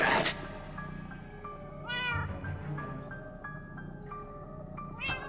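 A cat meows repeatedly in Minecraft Story Mode, a series of clear, drawn-out calls with rising and falling pitch over a steady game music background, including a strained, yowling cry midway and a sharp burst near the end.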